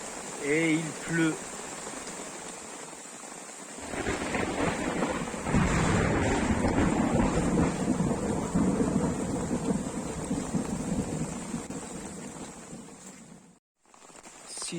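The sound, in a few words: heavy rain and thunderstorm at night on an island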